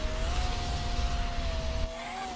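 Rokpal car from the Roblox game Drive World accelerating, a steady droning engine note that climbs gently in pitch over a low rumble, loud and close with no talking.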